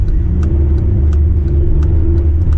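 A Honda Civic Type-R FN2 engine runs at low RPM with a deep, steady rumble, close and loud, with faint periodic clicks over the drone.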